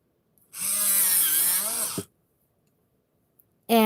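A pencil sharpener grinds a coloured pencil in one loud, close burst of about one and a half seconds. It stops abruptly, and a second short burst starts near the end.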